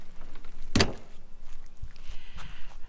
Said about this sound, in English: So let me just shut the door here.